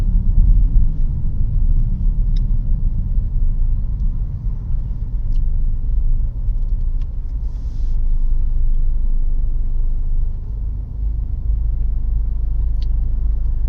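Road traffic rolling past in a continuous low, heavy rumble that swells slightly at times, steady and fairly loud, with nobody speaking.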